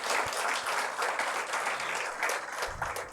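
Audience applause at a Sunday talk on mastering the mind, a steady wash of many hands clapping at moderate volume for about three seconds, with brief low voices underneath.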